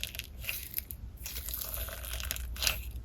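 Store-bought clear slime being mixed with add-ins produces close, crunchy crackling and squishing in irregular bursts, fairly soft, with no voices.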